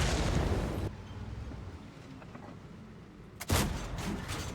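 A tank cannon in World of Tanks fires premium rounds: a loud boom opens the moment, followed by a quieter rumbling stretch, then a second sharp, close blast near the end with no talking.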